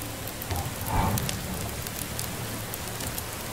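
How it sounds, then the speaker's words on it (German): Steady rain falling in the medieval survival game Medieval Dynasty, a constant broadband patter with a brief swell near the one-second mark, heard alone with no talk. "denn heute in dem Regenwetter setze ich mich nicht dahin"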